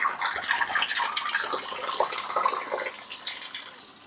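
Water running and splashing inside a garden sprayer tank as it is rinsed out, a close, continuous bubbling wash with no talking.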